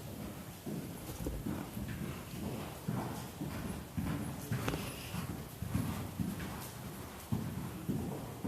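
Steady clip-clop of a horse's hooves walking at a slow, even gait, fairly faint and distant over outdoor background noise, with no talk.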